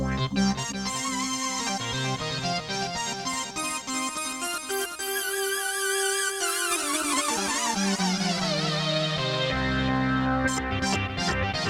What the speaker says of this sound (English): That's stereo delay. Turn that up.